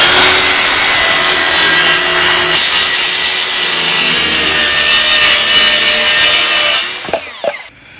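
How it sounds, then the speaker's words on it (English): A power saw rips a long strip off the side of a wood panel cut for a bobcat trap box, a loud continuous whine holding for about seven seconds before spinning down. "I'm gonna cut this whole strip off the side and I'll come back and cut these out."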